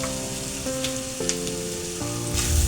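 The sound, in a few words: frying raw anchovies in a pan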